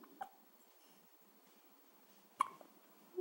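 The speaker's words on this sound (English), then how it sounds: "Hiccups." A baby hiccups twice in a quiet room, two short, soft isolated hics about two seconds apart, with faint background hush and a little rustle at the end.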